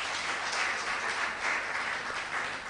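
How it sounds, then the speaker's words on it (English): A conference audience at a sustainable dairy production event applauds a speaker, steady dense clapping from a crowd, fairly distant and even in loudness throughout, with no talking over it. "Another round of applause for our speaker."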